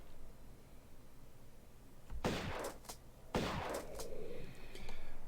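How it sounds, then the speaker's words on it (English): Shotgun fire aimed at lions in the Colosseum level of the video game Tomb Raider 1: two loud, booming blasts a second apart, each with a ringing tail, breaking an otherwise quiet stretch. "Shotgun, probably the best weapon in any video game."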